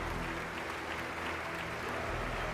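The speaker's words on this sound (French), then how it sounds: "Tous applaudissent longuement." Sustained, dense applause from a large assembly of Communist Party officials seated in a hall, steady and continuous from start to finish, heard at a moderate distance with no talk over it.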